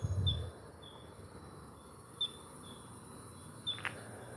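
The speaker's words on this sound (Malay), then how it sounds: "Kuat betul bunyi burung." Birds call near an old British colonial house at Jambatan Merah, Sandakan, Sabah, Malaysia, giving a few short, high chirps over a steady insect and cricket hum.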